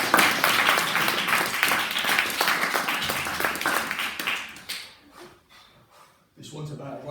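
Applause follows a poem at a poetry book launch in Croydon. A small audience claps, loud and close, for about five seconds, then the clapping fades into near quiet, and talk starts again at the end.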